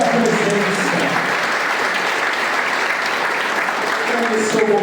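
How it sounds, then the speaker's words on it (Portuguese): A church congregation gives a warm, sustained round of applause during a triduum celebration, with many hands clapping steadily for several seconds and voices rising faintly beneath it. "a nossa gratidão, uma salva de palmas"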